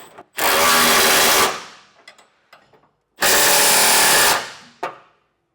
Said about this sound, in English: Tighten these black bolts down with a 3/4 inch as well.